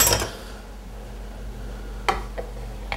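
A frying pan set aside on a stove or in a sink after cooking chicken quesadillas, giving a sharp metallic clank at the start and another clatter later over quiet kitchen background.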